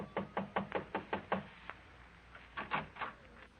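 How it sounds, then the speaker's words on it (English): Light knocking on an apartment door in a radio drama: a quick run of about seven soft raps, a pause, then a second shorter burst of knocks, close and alone. "you knock lightly on the door."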